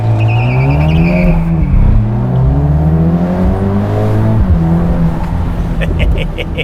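A Mercedes-AMG SL43 with a 2.0-litre four-cylinder engine launches hard from standstill on a Formula E circuit, revving loudly and climbing through gears with brief tire scrabble, close and continuous with a voice faintly underneath.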